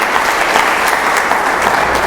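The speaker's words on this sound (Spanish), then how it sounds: "Dale un aplauso al Señor en esta mañana." A church congregation applauds during a Sunday morning service, a dense, steady wash of many hands clapping at once, loud and continuous with no voices on top.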